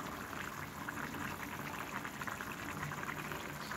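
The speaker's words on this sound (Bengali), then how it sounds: "খাঁটি সরিষার তেল একেবারে ঘানিতে বাঙানো দিয়ে দিলাম।" Pure cold-pressed mustard oil being poured into a pan, a continuous soft liquid hiss and bubbling wash heard close and fairly quiet, with no voices.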